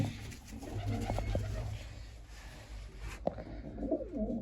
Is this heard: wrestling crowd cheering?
no